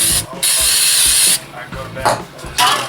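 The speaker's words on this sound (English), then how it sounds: "now I'm going to spray it properly with the brake cleaner" Several hissing bursts of brake cleaner aerosol spray on a Suzuki RF900 rear brake caliper, one long blast followed by shorter sprays, close up with faint talk underneath.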